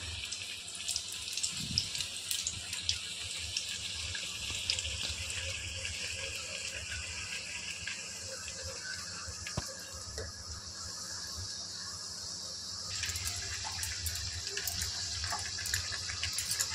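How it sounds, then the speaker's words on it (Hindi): Puri frying in hot oil in a home kitchen, a steady broadband sizzle and crackle running throughout at moderate level, with no one speaking. "अब ये रहा हमारा पूरी गया तेल में।"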